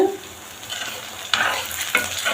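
Onions and tomatoes sauté in a pan for a potato masiyal, a steady close sizzle with two sharper bursts of stirring as the spatula turns them, no talking.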